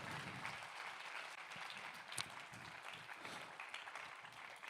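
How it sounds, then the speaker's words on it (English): A conference audience at React Universe Conf applauds steadily for the whole stretch, a dense, even wash of many hands clapping in a large room, with one sharper clap standing out near the middle. "can we all just give a massive round of applause to Rob Hogan, who's worked on this?"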